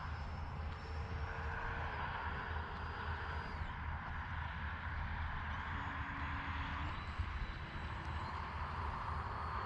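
An FMS Futura V3 RC model jet flies overhead with a steady whining engine drone whose pitch bends up and down as it passes, moderately distant.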